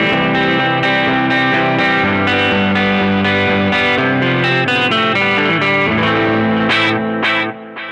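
Electric guitar played through the drive setting of a NUX Cerberus multi-effects pedal, loud and continuous with thick distorted sustained chords and notes, ringing alone throughout before easing off at the very end.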